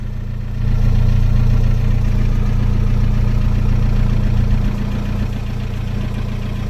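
A steady, low engine idle rumbles from the exhaust, close and continuous, with no talking.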